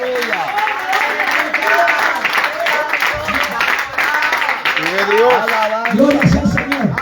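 Congregation clapping in a church service, scattered applause mixed with voices and a preacher's amplified speech, with musical tones sliding underneath.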